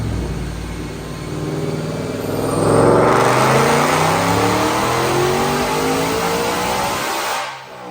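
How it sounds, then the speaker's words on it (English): A supercharged 2024 Mustang Dark Horse with a manual gearbox and long-tube headers revs hard on a dyno, its engine note climbing steadily in pitch, loud and close, before cutting off sharply near the end. "Check out this dyno pull."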